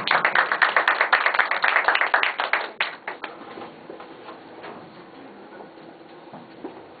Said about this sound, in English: so please applaud himself.